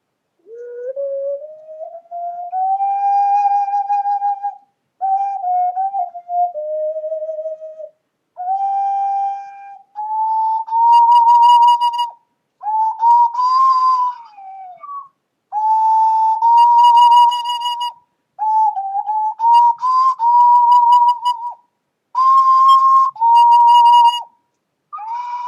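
Ceramic ocarina played on its high notes, a pure, whistle-like tone in sustained phrases separated by short breaks, with a slightly airy, unsteady pitch, clear and close with no talking.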